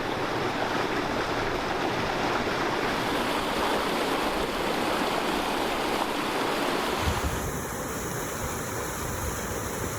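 Water rushes steadily over a small dam on Cabin Creek in the mountains, a constant, dense roar that runs unbroken through the whole stretch with no voices.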